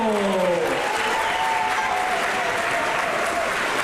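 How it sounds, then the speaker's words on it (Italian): A crowd applauds at an agricultural festival in Cogolo, a steady, even roar of clapping that holds its level throughout, with a few voices rising above it early on. "un super applauso alla frazione di Celledizzo"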